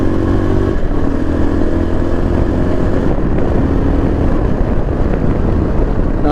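A Yezdi Adventure motorcycle engine runs steadily in fourth gear at low speed after a downshift, with a loud, continuous low thrum and a slightly uneven, labouring pulse that persists the whole time, with no talking.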